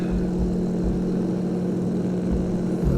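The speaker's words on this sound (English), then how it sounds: "hopefully we can get airborne before we run out of runway" A large aircraft's engine drone builds steadily as it rolls down a runway for takeoff in a flight simulator, a constant low rumble and hum throughout with no voices.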